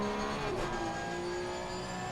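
Porsche and Lamborghini race cars in a multi-class racing game at Barcelona, engines droning steadily with a brief blip around a downshift, harmonic whine held under a constant pack of car noise.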